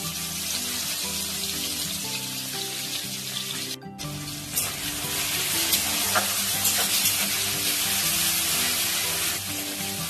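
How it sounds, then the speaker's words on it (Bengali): Crushed garlic drops into hot oil left from frying dried loitta fish, producing a continuous, close crackling sizzle that breaks off for an instant and then returns louder and busier, with no one speaking. "ওই তেলের মধ্যেই আমি আগের থেকে রসুন থেতো করে রেখেছিলাম, দিয়ে দিচ্ছি।"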